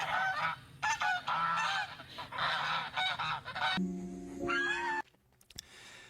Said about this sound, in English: Oh yeah, the geese come to help.